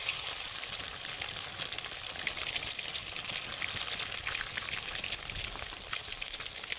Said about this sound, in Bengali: তেলের মধ্যে কিছুটা হলুদ দিয়ে দিয়েছি, তার উপর কেটে রাখা ডিমগুলো ভালোভাবে ভেজে নেব।